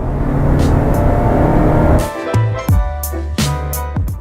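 A 2012 Honda CR-V driving with a loud, steady engine drone up close, then a few quick gear changes and revs with short pauses between them.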